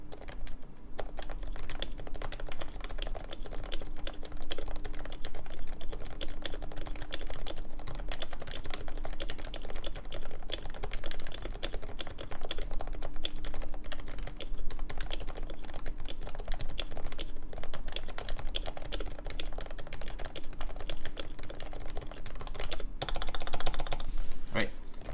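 Typing on a Topre 300 BN keyboard in an HHKB-style board, a steady stream of soft, muffled keystrokes running for the whole stretch at moderate level, with a constant low hum behind.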